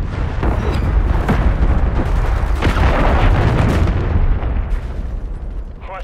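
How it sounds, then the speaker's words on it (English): Loud, continuous explosions and booming blasts from a cruise missile strike in a military shooter video game, dense rumbling impacts sustained throughout with a brief sharp burst near the end. "Hostiles launching cruise missile."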